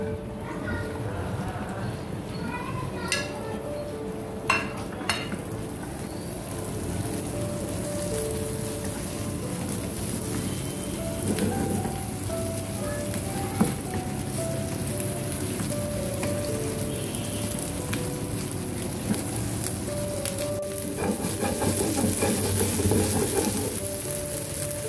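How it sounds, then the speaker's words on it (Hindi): Vegetables frying lightly in a spoonful of oil in a pan while making restaurant-style chicken shashlik, a steady crackling sizzle with a few sharp pops and clinks throughout, and someone talking over it. "दूसरे पैन में मैंने 1 चम्मच ऑयल डाला है और इसमें मैं ये सब्जियां जो है वो फ्राई"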